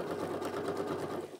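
A sewing machine runs steadily for a moment, stitching a thermal bag made of fabric and foam-backed insulating material, with a close, even whirring and rapid needle chatter throughout.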